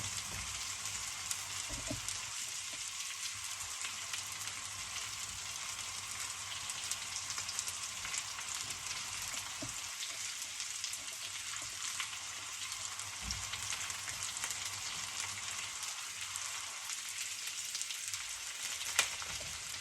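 Coarsely chopped onions fry in a wok, a steady, moderately faint hiss of sizzling oil with a few soft knocks and taps scattered throughout.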